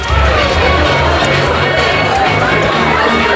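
Large crowd at an election night gathering in Atlanta, a loud continuous roar of cheering, shouting and chatter filling the space without letup.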